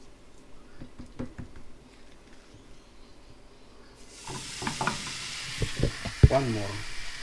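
Minced beef shaped like a burger hitting a hot frying pan, with a broadband sizzle rising partway through and continuing steadily, punctuated by a few close stirring and knocking sounds.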